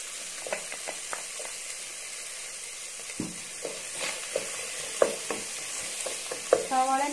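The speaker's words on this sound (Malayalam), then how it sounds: "സവാള ഒന്ന് നമുക്ക് വഴറ്റിയെടുക്കാം." Onions sauté in a hot pan for poha, a soft, steady sizzle underlaid with scattered clinks and scrapes of a spoon stirring, close and fairly quiet, with no voices.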